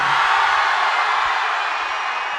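Sustained roar of a live audience cheering and applauding at a Tamil film event for the military movie Amaran with Sivakarthikeyan, loud and dense throughout with a few low thumps underneath and no voices standing out.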